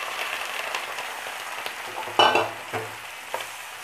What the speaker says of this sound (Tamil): இப்போ பொடியாக கட் பண்ணி வச்சுருக்கிற 3 தக்காளியை இதில் போட்டுக்கலாம்.